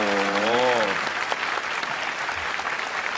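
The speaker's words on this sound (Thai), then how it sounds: "ยืนปรบมือ" An audience stands and applauds a Thai musician who sings and plays six instruments alone; a brief sung or hummed tone opens over continuous crowd clapping that carries on throughout.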